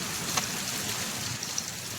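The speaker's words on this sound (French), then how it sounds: "maintenant c'est le déluge et il pleut beaucoup" A heavy rain downpour, a steady dense hiss of water falling and splashing close by, constant and loud with a few brief drip accents and no voices.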